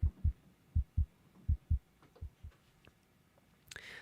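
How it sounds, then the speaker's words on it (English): Heartbeat played through monitoring software, a steady lub-dub pattern of low thumps in pairs repeating about three times, then fainter beats fading out before a brief high click at the end. "There's a lot of heartbeat there."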